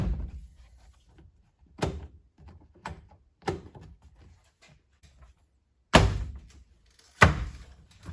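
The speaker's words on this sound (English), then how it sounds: "We can put our door panel back on" Honda Element interior door panel being pressed back onto the door, giving a series of dull thunks and clicks, two louder snaps near the end, with quiet handling in between.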